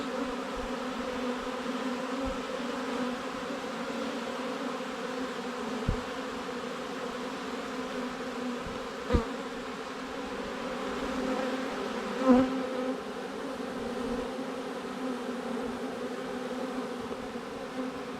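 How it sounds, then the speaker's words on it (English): A dense, steady buzz of a honeybee swarm hums continuously nearby at a hive, with a few brief louder thumps along the way and no voices. "There's a good bunch of bees though."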